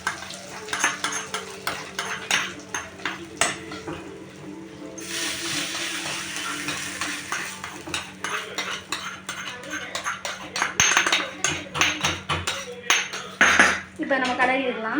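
Thinai pongal is stirred in a pot with metal utensils, giving repeated close scraping, clinking and clattering with a brief sizzling wash partway through, loud and near, with no talking.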